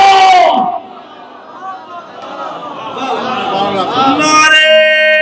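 A crowd at a Shia religious gathering in Meerut chants slogans, a loud burst of voices at first, then rising shouting and a swelling chant that builds to a strong cry near the end.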